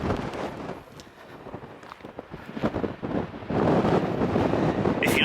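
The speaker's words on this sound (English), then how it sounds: "It's very windy." Strong wind sweeps the Cornish coast path between Land's End and Sennen Cove, rumbling against the microphone in uneven gusts that swell louder and steadier toward the end, with faint footstep-like scuffs mixed in.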